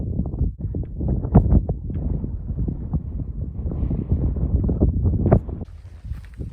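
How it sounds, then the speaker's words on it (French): Gusty wind on a mountain trail race in Corsica buffets the microphone in irregular low rumbling bursts, loud and close, easing slightly near the end. "un peu de vent c'est toujours bien"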